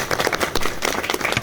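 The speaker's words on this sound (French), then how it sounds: "Je pense qu'on peut les applaudir" Conference audience claps for the members of an organizing committee, a short burst of dense, close applause with sharp individual claps and no talking.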